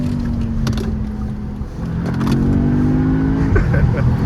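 A car engine revs loudly and steadily climbs in pitch, droning close by with a rough mechanical edge throughout.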